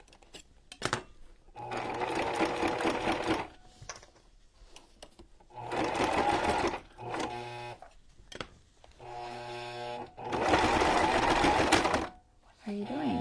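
A sewing machine stitches a ribbon onto a farmhouse-style junk journal cover in three or four loud, close bursts, with short pauses and small handling sounds between the runs.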